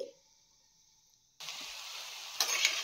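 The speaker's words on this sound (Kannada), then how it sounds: "ಅದಕ್ಕೋಸ್ಕರ ನಾನು ಮೀಡಿಯಮ್ ಫ್ಲೇಮಲ್ಲಿ ರೋಸ್ಟ್ ಮಾಡ್ಕೊಳ್ತಾ ಇದ್ದೀನಿ" Beetroot fry roasts in a pan over a medium flame; after a near-silent pause a soft, steady sizzle begins, with a couple of light clicks near the end.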